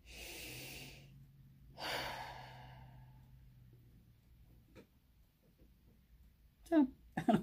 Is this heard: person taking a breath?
yes